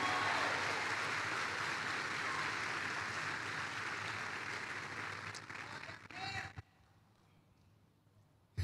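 Church congregation clapping and cheering during a revival service, a dense sustained wash of applause that swells, then fades to near silence with voices mixed in.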